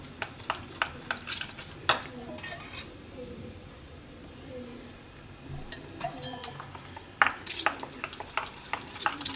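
A spoon stirs and mixes a Surti cold coco drink, clinking against the glass or pot in quick uneven bursts, with quieter swishing stretches between them, close and fairly soft.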